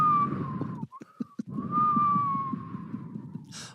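A sustained whistled tone glides slowly downward, briefly breaks off, then returns and falls again over a low rumbling background, ending with a short hiss.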